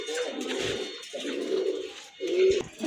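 Fancy pigeons, a pair of white Mukhi (Indian fantail) birds among a mixed fancy pigeon collection, coo in three long, low, throaty rolling phrases with short gaps between them, close and clear with no talking.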